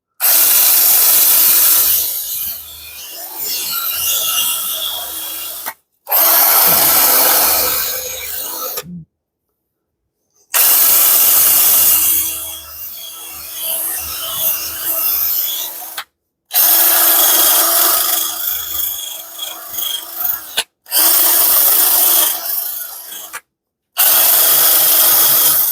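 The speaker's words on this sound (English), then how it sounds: "Need to speed up this drill." An electric drill spins a brass wire wheel over rusty metal lubricated with WD-40, a loud close whir and scrape running in several long bursts with short silent gaps between them.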